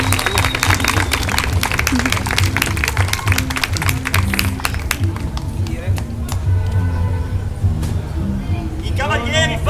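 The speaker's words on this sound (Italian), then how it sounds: "I cavalieri forse non vi hanno sentito! Un applauso!" An audience claps for a performer at an outdoor Camelot-themed animation show in Celle Ligure, the applause loud and sustained, with children's voices and crowd chatter mixed in and an announcer's voice coming in near the end.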